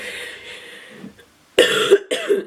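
A hoarse throaty sound trails off, then two sharp, close coughs break out in quick succession.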